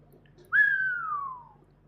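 A person whistles a single clear note imitating a dolphin whistle. The note rises sharply, then glides slowly downward for about a second and fades out. It is close and fairly loud against a quiet background, with no talking.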